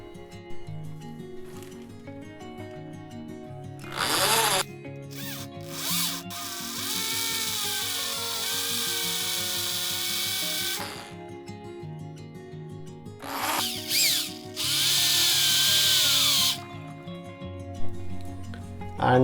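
Power drill boring screw holes into a wall to mount an IKEA Skadis pegboard, in several loud close bursts of whining drilling separated by short pauses, with no talking.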